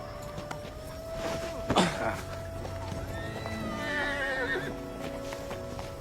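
A horse in a Bollywood action film scene neighs once, loud and close, its whinny rising and falling, while soft hoof clip-clops and background film sound continue underneath.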